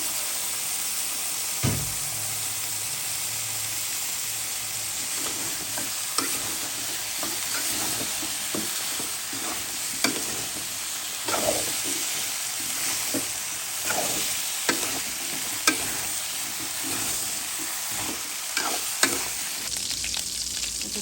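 Bottle gourd and potato pieces fry and sizzle loudly in spiced oil in a pan, with a steady hiss and repeated scraping and clacking of a spatula as they are stirred, close and continuous with no voices.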